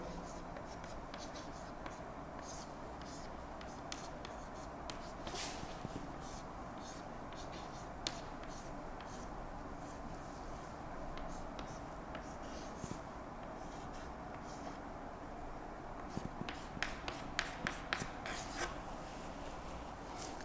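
Pen scratching out math on paper during a worked inner-product problem, a steady soft scritch with small taps and clicks, fairly close, with a few brighter strokes near the end.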